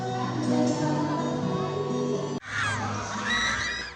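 A large festival crowd in San Carlos, Pangasinan cheers and shrieks loudly and continuously, with high excited voices swelling after a brief break, as a TV cast greets the audience at the Mango-Bamboo Festival fiesta.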